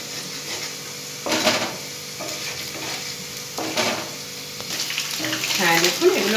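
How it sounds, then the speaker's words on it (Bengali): Ingredients for ginger garlic chicken fry in a pan, a steady sizzle with stirring scrapes and a few clanks of utensils, while a voice talks intermittently over the cooking. "এগুলোকে একটু ভেজে নিতে হবে।"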